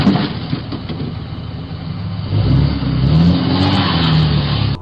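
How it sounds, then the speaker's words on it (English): A black truck speeds down a residential street, its engine roaring steadily louder from a low idle-like rumble into a sustained revving drone, with no distinct crash impact standing out. "a black truck is seen recklessly speeding down the street before colliding head-on with a mailbox, causing it to shatter into numerous pieces"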